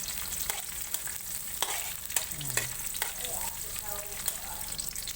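Onion sizzles in hot oil in a pan with stirring, a soft, steady frying hiss broken by a few sharp clicks of a utensil against the pan.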